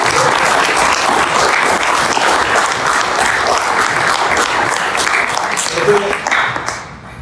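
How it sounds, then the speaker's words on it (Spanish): A large crowd at a political rally applauds loudly and steadily for several seconds, dense clapping that eases off near the end. "Démosle un aplauso."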